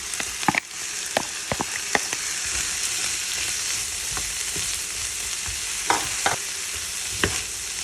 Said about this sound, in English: you want to continue stirring in the meat until it gets cooking